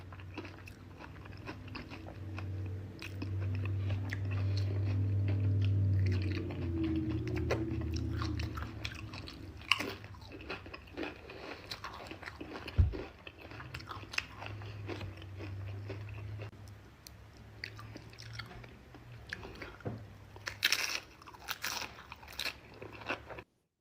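Crunchy bites and chewing of food during a mukbang, close and loud, with repeated crisp crunches and wet mastication and almost no talking.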